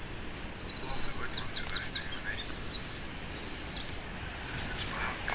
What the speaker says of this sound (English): The blackbirds singing in the background are bonny as well.